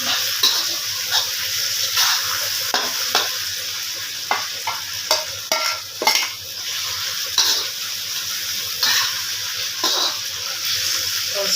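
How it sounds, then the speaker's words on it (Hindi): Chicken pieces cook in a pan for bhindi chicken, a loud constant sizzle broken by frequent rhythmic spatula scrapes and stirring knocks, close and busy throughout. "यहाँ पर मैंने चिकन इसमें ऐड कर दिया।"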